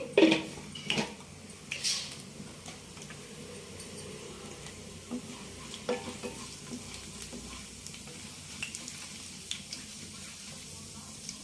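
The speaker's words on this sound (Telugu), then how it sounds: "వంకాయ ముక్కలు తీసినాక తాలింపు గింజలు వేసుకుందామండి" Tempering seeds fry in oil, sizzling steadily at a moderate level while a spoon stirs and scrapes a pan, with a few sharper clinks of metal near the start.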